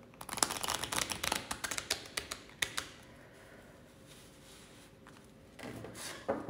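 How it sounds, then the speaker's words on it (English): A brand-new deck of playing cards being shuffled up close, with quick bursts of crisp riffling and flicking in the first seconds, then a quiet pause before the cards rustle again. "let me just shuffle the deck because it is new"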